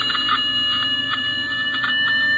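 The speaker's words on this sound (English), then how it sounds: "the radar units all make a sound like this" A police radar unit gives off a steady, ringing Doppler tone that wavers slightly in pitch, close and fairly loud, with no voice over it.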